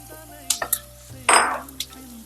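Fried prawns stirred into sautéed onions in hot oil in a pan, a few sharp scraping stirs followed by a brief burst of sizzling, close and clear with no talk.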